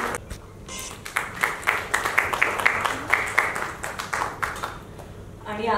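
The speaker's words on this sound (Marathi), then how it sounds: "त्यामुळे एकदा जोरदार टाळ्या सुरुवात करा." An audience at a Marathi film trailer launch event for Ambat Shaukin claps together in a rhythmic, evenly spaced burst of applause that fades out toward the end.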